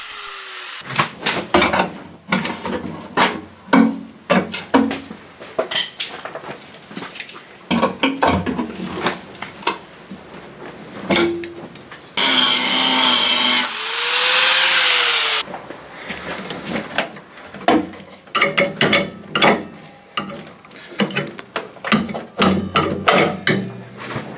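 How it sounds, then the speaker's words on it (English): An angle grinder cuts away old spot welds on the steel inner wing of a Talbot Express camper van, sounding as loud, rapid bursts of harsh grinding and clanking metal, with a brief sustained whining stretch in the middle. "Now I'm grinding off the old spot welds that held in the battery tray and peeling back the rest of the metal."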